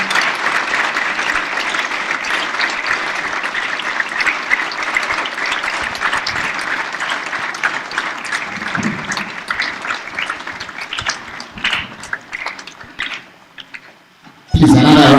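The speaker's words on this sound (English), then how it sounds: "Makofi tafadhali" Loud, sustained applause from a ceremony audience at a Model UN opening in Tanzania, dense clapping that thins and fades near the end before a sudden louder burst of sound cuts in.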